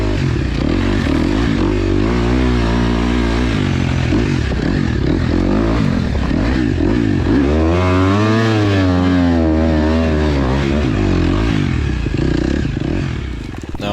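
A loud car engine on new snow tires churns and revs steadily with scraping, sloshing clatter, its pitch rising and falling as it pushes hard through a thick stretch of swampy mud.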